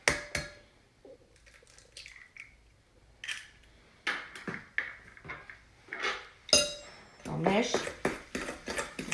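A spoon clinks and scrapes against a bowl in short, irregular bursts as an egg is mixed into leftover mashed potatoes for okra and potato patties, up close in a kitchen, with talk over part of it.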